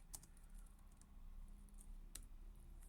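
A command typed on a computer keyboard, a few quiet, scattered key clicks with a faint background hum and no talking.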